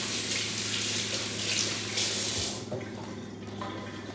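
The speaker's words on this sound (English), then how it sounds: "Let me rinse my hands so I can touch the crock pot." Tap water runs steadily into a kitchen sink as hands are rinsed, a loud close rush lasting a couple of seconds before easing off to a softer trickle.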